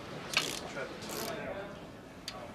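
A bolt is fitted into a McLaren brake caliper during supercar assembly, giving a few close mechanical clicks and ratcheting sounds under quiet background noise.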